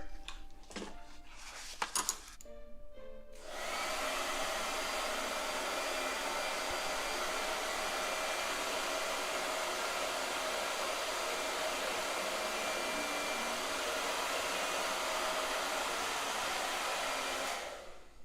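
A few clicks and fumbling, then a hair dryer switches on and blows with a steady, loud whir for about fifteen seconds before cutting off.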